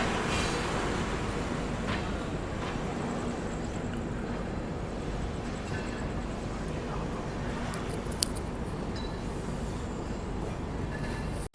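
The Saurashtra Mail, an Indian Railways passenger train, pulling out of Vadodara Junction, heard from inside as a steady, loud rumble of wheels and carriage noise with a single sharp clank near the end.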